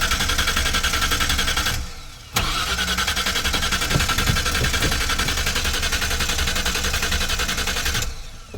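Starter motor cranking a 1995 Ford E150 van engine, loud and close, in two long sustained runs of steady whirring with a brief pause between them and no catch.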